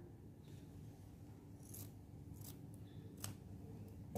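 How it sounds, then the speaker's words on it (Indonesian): Scissors snip the end of a rubber balloon in a few quiet, separate crisp cuts, close by against a soft background hum. "ambil balon, lalu gunting ujungnya."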